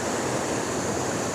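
Steady broadband rush of water flowing around a rock at a waterfall in the Otways, continuous and fairly loud with no distinct splashes, filling the whole moment with no voices.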